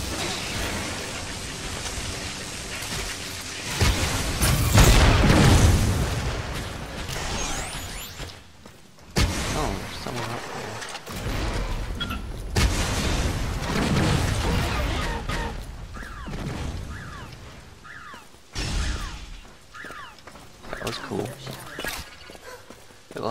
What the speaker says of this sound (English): Like explodes and then drops little missiles underneath. It's explosion.